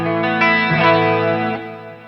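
An electric guitar's clean tone through a neck humbucker, recorded direct into an audio interface: a loud, close run of sustained strummed chords with rich, ringing harmonics, no voice present.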